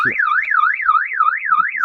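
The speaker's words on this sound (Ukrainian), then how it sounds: "Сигналізація." A car alarm at a used car market wails alone, close and loud, its tone sweeping up and down in a steady repeating cycle.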